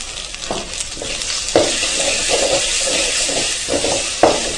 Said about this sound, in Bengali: মশলাটা দিয়ে আমি ভালোভাবে কষিয়ে নিব